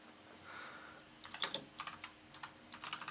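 Crisp, clicky typing on a computer keyboard, close and fairly loud, in quick irregular bursts of keystrokes after a quiet opening, with no talk over it.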